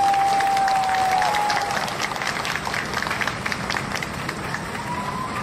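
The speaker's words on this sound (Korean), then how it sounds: "여러분 그분들에게 박수 한번 드리십시오." Sustained crowd applause at a Korean public event fills the whole stretch as a dense, even wash of clapping at steady loudness, with a brief whistle-like tone near the start.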